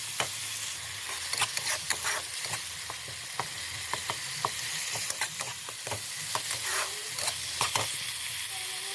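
Crab masala with tomato stir-fried in a pan at home, a steady close sizzle broken by repeated scraping strokes of a spatula, loud and continuous with no talking.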